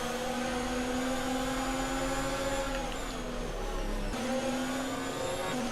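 F1 2019 racing game cars bunched in traffic at Monaco as others leave the pits, a steady droning engine whine with shifting pitch, continuous and fairly loud with no talk.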